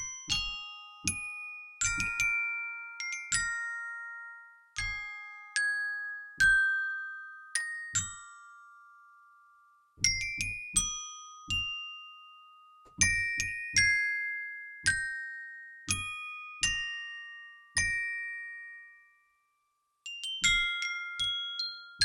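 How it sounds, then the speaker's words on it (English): Bright, bell-like glockenspiel tones from the Bad Cat Media Indi Glock sample library ring out in short melodic phrases, each struck note decaying with a shimmering tail, quiet and without voices. "Nice sound. Nice, magical glockenspiel."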